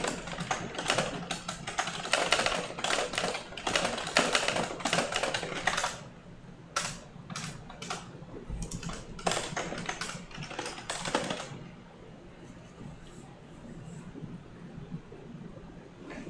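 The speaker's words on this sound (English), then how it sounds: "I can't type today." Fast, dense typing on a computer keyboard during competitive programming, close and loud in steady bursts for about eleven seconds, then thinning into a few scattered keystrokes before stopping.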